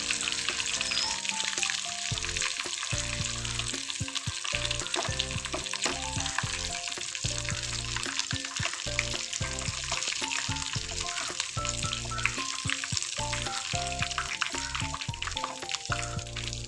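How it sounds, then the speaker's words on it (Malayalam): Aloe vera pieces fry in boiling coconut oil with a constant dense sizzle, bubbling steadily from start to finish beneath rhythmic background music, with no talking. "തിളച്ച വെളിച്ചെണ്ണയിലാണ് നമ്മുടെ ഈ കാറ്റാർവാഴ ഇട്ടുകൊടുത്തിരിക്കുന്നത്"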